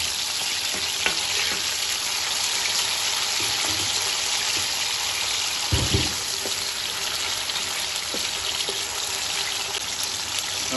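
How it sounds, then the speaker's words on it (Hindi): Pieces of taro (arvi) fry in hot oil with a steady, even sizzle, punctuated by a brief low thump partway through as the food is moved around in the pan. "इसको हमने करना है फ्राई"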